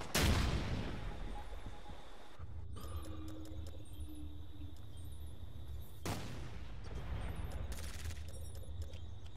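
A grenade blast in the military shooter Ghost Recon Future Soldier opens loud and sharp, followed by a low rumbling battle bed with a second burst of blast noise partway through; no voices are heard.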